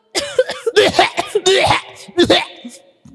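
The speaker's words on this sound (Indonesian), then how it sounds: "Batuk." A person coughs several times in quick bursts, close and loud, mixed with voiced throaty sounds.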